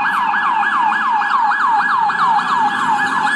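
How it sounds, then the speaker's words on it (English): A police car siren yelps in rapid, repeating rising sweeps, loud and close, over the hum of road traffic. "Police car."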